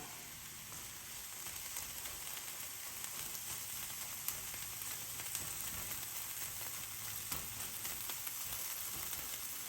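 Beans and eggs sizzling in butter in a skillet, a faint, even crackle and hiss continuing steadily throughout with tiny pops, no voices.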